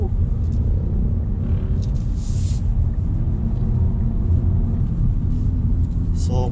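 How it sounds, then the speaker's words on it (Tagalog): Heavy low road rumble from traffic heard from inside a moving Honda Civic, a constant loud drone throughout, with brief higher noises and faint voices on top. "So madaming traffic ngayon."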